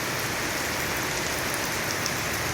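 Heavy rain pours outdoors in a dense, constant hiss, loud and unbroken throughout, with no voices.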